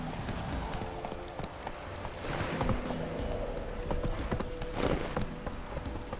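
Horse hooves clip-clop at a steady gallop rhythm in The Witcher 3: Wild Hunt, loud and continuous over game ambience, with occasional swells and no talking.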